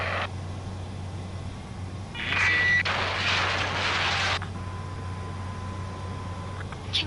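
An airplane engine in the Ace Combat video game hums steadily under a low drone, with a brighter burst of jet roar in the middle before settling back to a constant tone.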